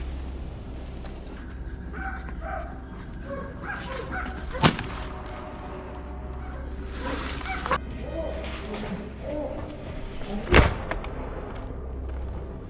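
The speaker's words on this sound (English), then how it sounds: "the hounds dove into a quiet patch of woods, then suddenly barked an alarm" Hunting hounds barking in bursts in woods while chasing wild boar, amid rustling and background noise, with a couple of sharp cracks standing out, moderately distant.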